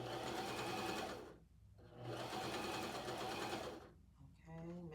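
A sewing machine stitches in two close, steady whirring runs, each broken by a short pause, with a lighter motor start near the end.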